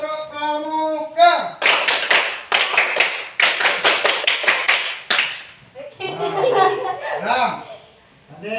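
A class of pupils claps a scout clapping pattern during teaching practice, several quick rhythmic bursts in close groups, with a voice talking just before and after.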